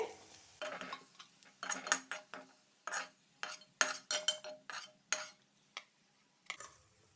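Golden brown fried pumpkin pieces lifted from a pan onto a plate with a metal utensil, giving a string of close, sharp scrapes and clinks in an irregular rhythm with short pauses between them.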